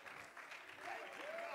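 Church congregation applauding in praise during a Sunday service, a steady dense wash of hand claps that swells slightly toward the end, with a faint voice rising over it.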